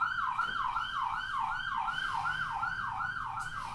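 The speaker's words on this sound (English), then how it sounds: "I was trying to wait till that siren's gone" An emergency vehicle siren passes outside, its rising and falling wail repeating in a steady, regular cycle for the whole stretch, continuous and fairly prominent with no one speaking over it.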